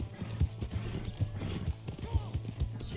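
Horse hooves clip-clopping at a slow, plodding pace in the video game Red Dead Redemption 2, a steady rhythmic series of close hoofbeats over a low game ambience.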